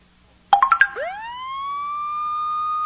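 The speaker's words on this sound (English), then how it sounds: "an ambulance came to take George to the hospital" Ambulance siren in a children's story: four quick chime-like tones followed by a loud, close electronic wail that rises and then holds steady.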